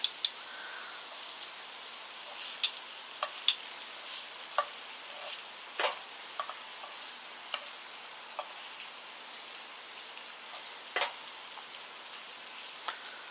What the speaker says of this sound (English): Shrimp is just simmering away.